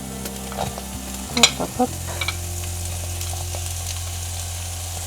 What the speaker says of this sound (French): Je vais maintenant ajouter les oignons.